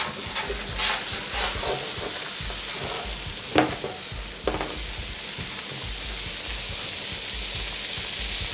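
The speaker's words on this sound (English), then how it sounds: "We're going to fry up the SPAETZLE and brown it." Spaetzle sizzles and fries in a pan, a steady bright crackle with occasional clinks and scrapes of stirring, close and continuous without talk.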